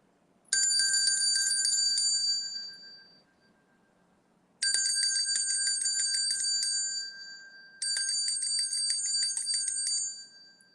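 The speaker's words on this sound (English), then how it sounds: "Let me go get my bell." A small hand bell rings in three bright, sustained bursts separated by short pauses, fairly quiet and alone with no talking.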